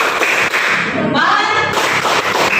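Students in an Indonesian teacher-training classroom clap together in a patterned salute, a dense burst of close hand claps that fills the room throughout with a few voices mixed in.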